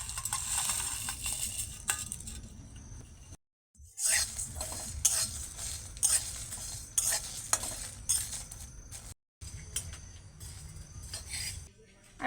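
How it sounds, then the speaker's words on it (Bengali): Dried red chillies with whole coriander, fennel, cumin and five-spice seeds are dry-roasted in a pan, stirred with repeated scraping and rattling strokes and light crackle, broken by two short silences. "সাইড করে মশলাটাকে শুকনো লঙ্কাটাকে একটু ভেজে নিচ্ছি"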